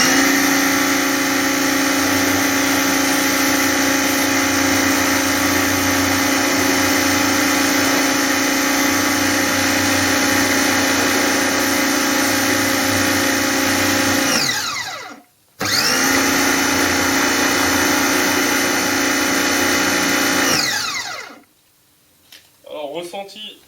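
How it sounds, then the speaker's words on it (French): A Michelin MPX 19EHP pressure washer runs with its rotary nozzle, a loud steady motor-pump drone that cuts out abruptly for a moment, restarts, then winds down and stops near the end. "j'allume l'eau, j'allume le Karcher et on regarde ce que ça donne"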